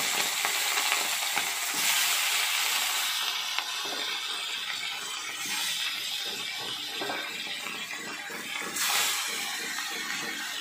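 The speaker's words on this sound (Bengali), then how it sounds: "এবার আমি ছোট ছোট বাটা মাছগুলো ভাজা করে নিচ্ছি।" Small bata fish fry in hot mustard oil with a loud, steady sizzle and crackle. Brief bursts of spatter rise throughout, and no one speaks.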